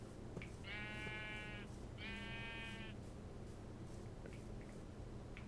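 Two clear, wavering sheep bleats from the Minecraft modpack GregTech: New Horizons sound one after the other, each about a second long, over a low steady hum, followed by faint clicks.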